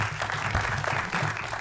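Conference audience at BSidesSF applauding the event's sponsors: a steady, even wash of clapping from a sizable crowd, moderately loud and without breaks.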